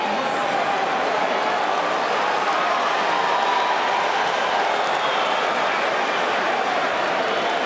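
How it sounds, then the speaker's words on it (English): A packed boxing arena crowd roars steadily before the Mayweather vs Maidana rematch, a continuous wash of cheering and clapping with no clear breaks. "This crowd is electric."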